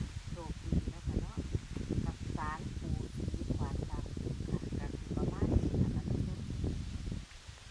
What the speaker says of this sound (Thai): กลัวว่าจะได้ยินแต่ เสียงลม